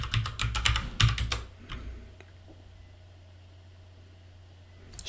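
A sudo password is typed on a computer keyboard in a quick, close burst of clicking keystrokes, followed by near silence and a single final key tap.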